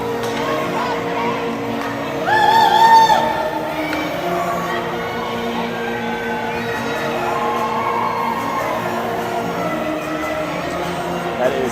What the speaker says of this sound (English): Enthusiastic response from the Shakopee crowd.